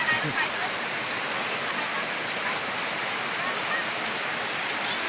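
Loud, steady rush of a slide waterfall in Sakon Nakhon province, Thailand, a dense continuous roar of falling water close by, with no breaks.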